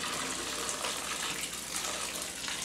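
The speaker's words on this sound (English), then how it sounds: "just take the bag, just kind of let it drain" Water draining out of a bag of rinsed alpaca fleece, a steady, close gushing and trickling wash of water that continues without a break.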